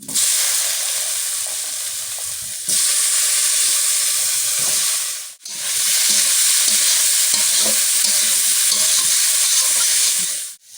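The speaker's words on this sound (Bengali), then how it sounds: "তেলের মধ্যে রান্নি দিয়ে দেবো হ্যাঁ বেগুনটা দিয়ে দেবো এখন" Eggplant frying in hot oil in a pot for a Bengali koi fish and eggplant curry, a loud, steady broadband sizzle, close and continuous, with scraping stirs throughout and a brief dip midway.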